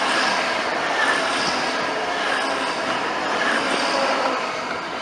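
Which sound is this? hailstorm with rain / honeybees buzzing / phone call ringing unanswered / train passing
train passing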